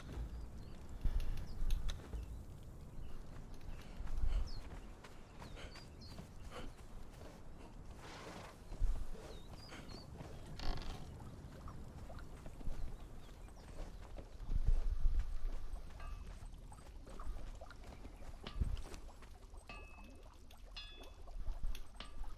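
Horse hooves clip-clop in the Conan Exiles video game: a steady, moderately loud run of hoof beats that continues throughout, over soft game ambience.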